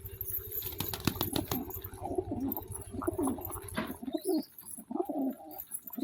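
Pigeons coo softly nearby while a burst of rapid wing flaps rises at the start, then low cooing murmurs continue on their own.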